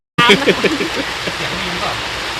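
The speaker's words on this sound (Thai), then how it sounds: "ตอนนี้นะครับฝนตกลงมาเยอะแยะมากมายเลยนะครับ" Heavy evening rain pouring down outdoors during a Thai live stream with an elephant, a dense, loud, steady hiss that begins abruptly after a moment of silence and then holds without a break.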